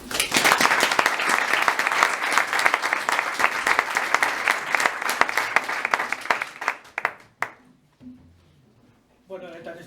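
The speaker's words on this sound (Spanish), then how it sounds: "Un aplauso para él." An audience breaks into loud, dense applause for the musician Juan Ignacio, sustained for several seconds before thinning into scattered claps and fading, followed by a brief voice.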